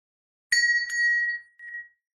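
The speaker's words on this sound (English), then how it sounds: "when the man begins to show up at the door, the alarm bell goes off." A short alarm bell sound effect added during Canva video editing: two quick bright rings followed by a lingering tone and a brief softer echo, alone in otherwise silent audio.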